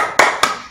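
Two sharp, loud hand claps from children in a kindergarten class, spaced evenly in a quick rhythmic chant, close and clear with no talking over them.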